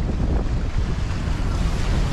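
Steady wind buffets the microphone beside the water while fishing, a continuous loud low rumble with no break, mixed with a wash that sounds like waves or surf.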